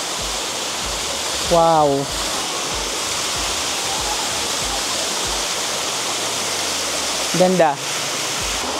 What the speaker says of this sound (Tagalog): So ito na guys yung first part ng waterfall.